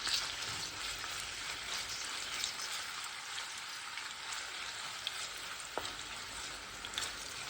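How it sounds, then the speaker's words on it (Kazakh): Meat sizzles loudly in a pot of rendered mutton and beef fat, a dense, constant crackling fry with occasional sharper pops and no talking. "Әбден қуырамыз."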